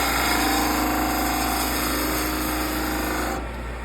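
Wood lathe spinning a small bud vase while a tool scrapes the surface, a loud continuous whirring rasp with steady texture that eases slightly at the end, no voices.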